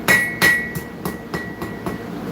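Hammer blows on hot steel at an anvil during live blacksmith forging, with several sharp metallic strikes ringing out, two loud ones close together followed by four lighter, evenly spaced taps.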